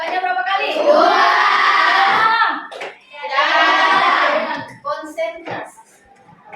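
Schoolchildren in a classroom answering together in loud group chants, with a few scattered hand claps as part of a class clapping routine.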